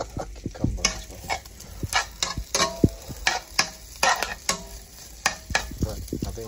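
Chinese sausage, cucumber and other vegetables are stir-fried in a hot pan, with a quick, irregular clatter of the utensil scraping and tossing over a steady sizzle. The sound is close and loud.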